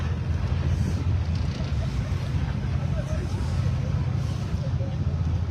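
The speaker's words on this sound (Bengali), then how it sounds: "অনেক বাতাস, দেখো না" Steady, heavy wind roaring and buffeting the microphone outdoors near the Statue of Liberty on a freezing night, continuous and loud throughout, with a low rumble like open water nearby.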